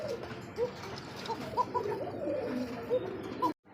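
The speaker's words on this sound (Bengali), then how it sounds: "হান্ড্রেড পার্সেন্ট জোড়া ককা কবুতর দেখছেন" A pair of koka pigeons coo in a loft, repeated soft, low rolling coos close by, overlapping in an uneven rhythm over faint background noise.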